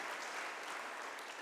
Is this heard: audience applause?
yes